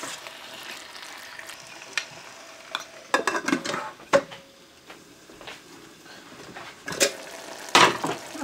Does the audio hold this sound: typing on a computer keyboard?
no